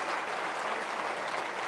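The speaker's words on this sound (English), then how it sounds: "You can hear the applause." Crowd in Barcelona applauding castellers as a human tower reaches its top, a steady wash of clapping heard from a distance and fairly faint.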